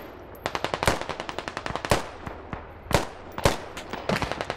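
Rapid bursts of mounted machine gun fire in the video game Squad, several sharp volleys of close, loud shots with brief pauses between them.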